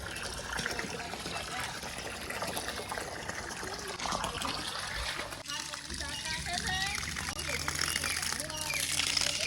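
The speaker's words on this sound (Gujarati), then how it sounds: "અહીંયા બટાકામાં ફુવારા પદ્ધતિથી પાણી ચાલુ છે" Sprinkler irrigation watering a potato field in the evening, producing a steady hiss of spraying and pattering water throughout, with people talking faintly over it.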